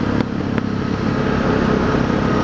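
A dirt bike engine fitted with an FMF Q4 exhaust, drilled carb slide, re-jetted carb and cut-open airbox, running loud and close with a steady, continuous drone and no talking.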